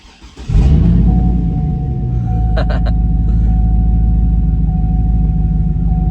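A 2008 GMC Yukon Denali with its muffler cut off starts up and drives, a loud deep rumbling exhaust drone that swells at the start then holds steady and close, with a thin whine above it.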